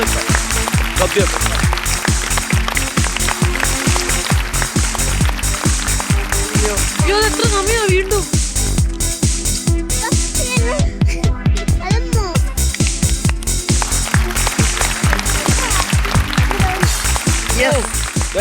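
A crowd gives a standing ovation, loud rapid clapping that runs continuously and densely, with people speaking over the applause midway.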